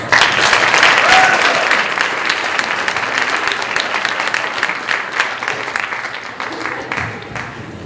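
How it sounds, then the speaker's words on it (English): An audience at an illusionist's magic show applauds as volunteers head to the stage, loud dense clapping at first that thins into scattered individual claps by the end, with some faint talk in the mix. "And as they make their way up, a round of applause."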